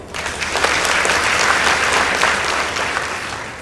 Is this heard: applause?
yes